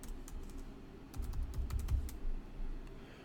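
A short, quick burst of keystrokes on a computer keyboard, close and fairly quiet, with a few soft clicks before the main flurry.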